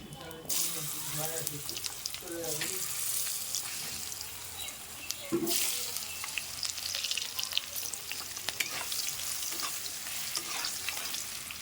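Potatoes fry in a pan after dry red chilli, bay leaf and whole cumin have been tempered in the oil, giving a steady, close sizzle with brief stirring scrapes and running water behind it.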